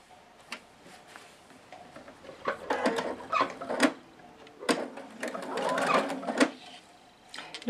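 A sewing machine stitches patchwork house pieces in short bursts of rapid mechanical chatter, stopping and starting between runs, with someone speaking quietly over and between them.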